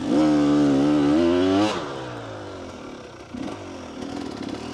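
A motorcycle engine revs loud and close in second gear, with the bike held on full lock, then the pitch drops and the engine settles to a lower, rougher drone with a brief pickup toward the end.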